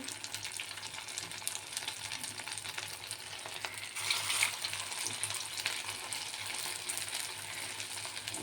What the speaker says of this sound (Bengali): আমি কড়াইতেই বড়াগুলো তৈরি করে নিচ্ছি